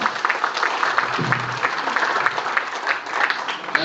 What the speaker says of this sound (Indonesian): Tepuk tangan untuk Katurak ya.